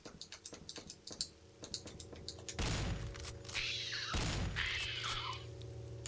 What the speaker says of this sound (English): 2 shotgun blasts to finish these things